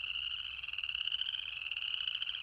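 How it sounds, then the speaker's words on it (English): A tiny chorus frog calling in a wetland, a loud, continuous rasping trill with rapid pulses that carries steadily and close, with no other voices. "it's the tiny chorus frog, barely the size of a quarter"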